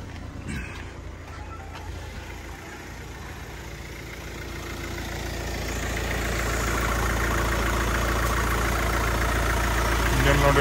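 A Hyundai Venue SX(O) diesel engine idles with a low, steady hum that grows gradually louder and fuller toward the end, heard close up and without talk.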